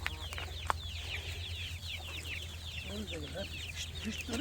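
Chickens cluck and chirp steadily at moderate distance, a busy overlapping chatter of several birds over a low constant hum, with faint human voices mixed in.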